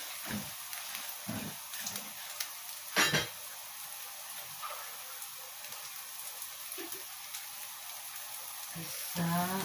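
Fried rice sizzles in a hot pan, a steady hiss of frying with occasional louder scrapes and clatters as it is stirred, close up.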